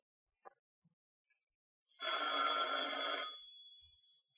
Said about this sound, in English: will that phone ever stop ringing so we can get on with this?